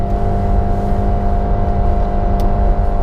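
Steady loud engine drone from a 2019 Subaru Impreza Sport with a CVT under acceleration, a constant whirring hum heard from inside the cabin without rising revs, no speech.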